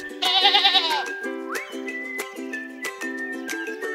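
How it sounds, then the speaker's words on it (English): Goats and sheep bleat on a farm, one loud wavering call up front followed by several shorter overlapping bleats close by, with no talking. "Goats and sheep are being raised."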